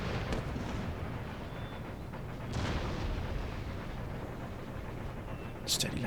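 3-pounder cannons firing in a land battle in Empire: Total War: deep, booming artillery reports rolling out over a continuous low battlefield rumble, with a voice speaking over the din.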